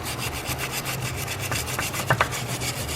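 A razor blade scraping crusty gunk off a Yamaha VMAX 500 snowmobile engine, in rapid repeated rasping strokes, close up, with a couple of sharper scratchy clicks near the end.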